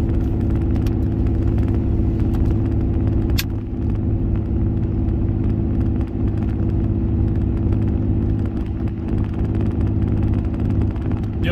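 A 2022 Ram 2500 with the 6.7 Cummins diesel tows 16,000 lbs up the steep side of Vail Pass, Colorado, its engine a loud, steady low drone heard from inside the cab at about 2,000 RPM.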